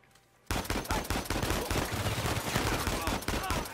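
Rapid gunfire in Uncharted 4, a dense burst of shots starting abruptly after a quiet moment and continuing loud and steady, with overlapping bangs and crackling impacts throughout.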